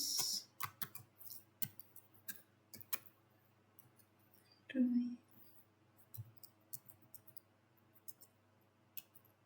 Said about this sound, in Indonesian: Setelah itu kita ketik lagi perintah ls